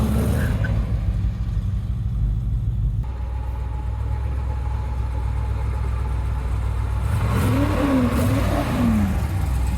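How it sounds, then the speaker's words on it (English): A 1969 C3 Corvette Stingray with a factory 427 big block and four-speed, just out of storage, rumbles steadily as it drives, with a deep, loud low-end drone and a rising rev swell near the end. "It's crazy how good it runs."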